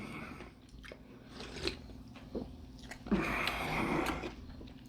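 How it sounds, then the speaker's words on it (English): Close-up crunchy biting and chewing of a Cincinnati chili cheese dog topped with Skyline chili sauce and cheese, with wet mouth sounds and louder crunches building in the second half. "I was giving y'all some crunchy ASMR."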